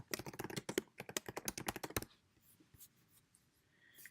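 Fingers type a title on a computer keyboard, quiet close clicking in a quick rapid run of keystrokes for two seconds, then a few scattered faint taps in near silence.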